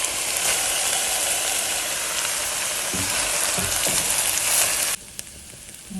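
Rice frying in a pan for a coconut milk green rice dish gives a steady, close, hissing sizzle that runs evenly before suddenly dropping to a quieter sizzle near the end.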